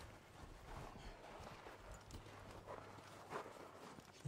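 A horse shifts and steps nearby while being haltered, hooves clopping irregularly on the ground amid quiet outdoor rustling.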